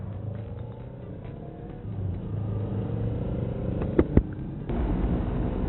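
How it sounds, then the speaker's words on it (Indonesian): Vehicle speeding and revving right alongside on the road: a steady close engine rumble that swells, with a couple of sharp bursts and then a louder surge toward the end. "Bentar ya, ada yang mau ngebut nih samping gua nih."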